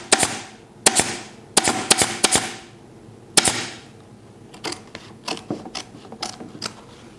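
Staple gun firing staples through jute webbing into a wooden seat frame, a series of sharp, loud snapping clacks, singly and in quick pairs, with softer clicks toward the end.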